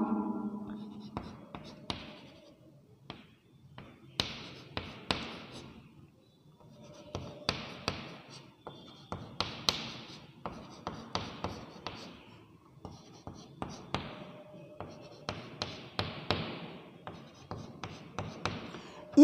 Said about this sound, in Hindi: ये सारे ऐसे में लिखता जा रहा हूँ।